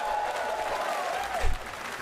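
Subdued live crowd applause and murmur fill a theater at Summer Game Fest, a steady low patter of clapping throughout with a brief swell near the end.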